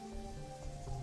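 Rain ambience from the video game .Hack//Infection, a steady hiss more like a running shower than drops hitting ground, with sustained tonal hums from the game's background sound beneath, continuous and moderately quiet.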